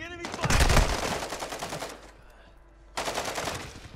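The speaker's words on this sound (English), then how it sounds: "Taking enemy fire." Automatic gunfire in Call of Duty: Modern Warfare 2, loud and close, in two rapid bursts separated by a quieter stretch where the shots trail off.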